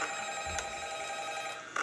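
Telephone ringing inside a video game, a steady electronic ring tone held at moderate volume with a few faint clicks, no talking.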